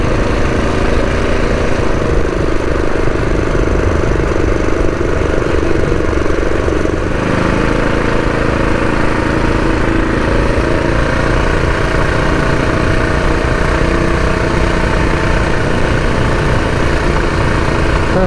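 A Predator 212 mini bike engine running continuously while being ridden, a loud, steady, buzzing small-engine drone up close with slight load changes and no talking.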